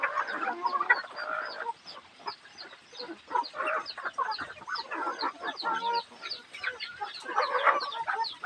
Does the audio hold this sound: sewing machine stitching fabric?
no